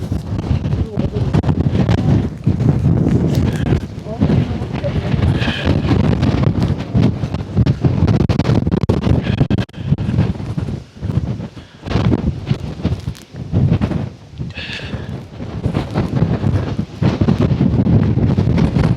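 Strong wind buffeting on Mam Tor peak on a snowy day, loud gusty roar hitting the microphone in surges with brief lulls, continuous and close, with people talking intermittently.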